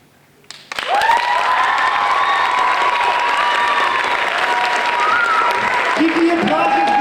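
Crowd applauds and cheers for a slam poet at a high school ninth-grade poetry slam, rising suddenly from quiet into sustained loud clapping while a voice speaks over it.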